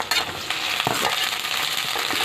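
Okra frying in hot oil for a mixed vegetable dish, a dense, continuous crackling sizzle close up, with a few clinks of a utensil against the pan.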